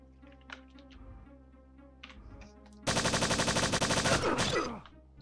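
Rapid automatic gunfire in the shooter game Strife: a loud, sustained burst of evenly spaced shots, about a dozen in quick rhythm, cutting off abruptly after quiet game ambience.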